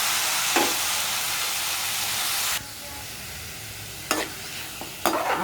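Vegetables and spices fry in a pan for eggplant bharta with a loud hissing sizzle that drops after a few seconds, punctuated by three sharp bursts from stirring.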